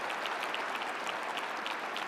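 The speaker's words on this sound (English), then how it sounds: "Give this wonderful lady a round of applause" A large audience at a Melaleuca leadership event applauds a woman on stage, steady distant clapping, faint and even throughout.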